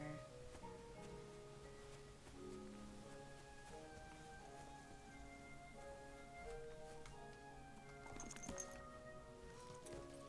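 Horse hooves clip-clop at a walking pace in the medieval video game Kingdom Come Deliverance II, quiet and steady beneath layered in-game ambience and music.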